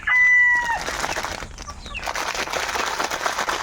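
Farm chickens give a clear, loud tonal call at the start, then fade into softer clucking and a rustling, noisy yard background.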